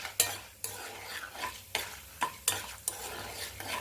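Urad dal frying in a pan, a continuous sizzle broken by regular scraping strokes of a spoon stirring the lentils every half second or so, close and clear with no talking.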